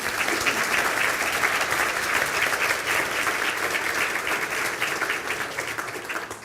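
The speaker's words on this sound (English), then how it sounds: "And I'd ask you to give Megan a round of applause, please." Steady, loud applause from an audience at a university conferring ceremony in Galway, dense clapping sustained throughout and fading slightly toward the end.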